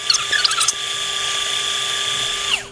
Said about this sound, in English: so I'm going to give it another blend